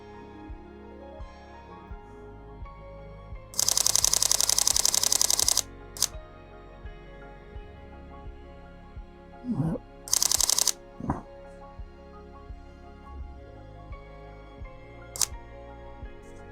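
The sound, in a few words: Sony A6700 camera shutter firing shots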